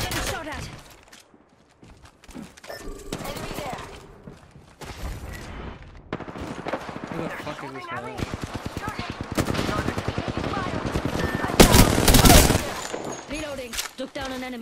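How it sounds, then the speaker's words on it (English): Rapid automatic gunfire bursts and single shots from an Apex Legends battle, a Rampart match, loud and dense with overlapping weapons and impacts, rising to a heavy close volley near the end. "Getting shot at."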